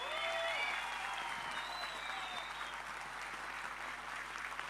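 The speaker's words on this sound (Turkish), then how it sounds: "İstanbul ilçelerine, belediye başkan adaylarına kocaman bir alkış" Faint, distant crowd applause at a Turkish political party rally for district mayoral candidates, a soft steady wash of clapping with thin tonal sounds drifting over it.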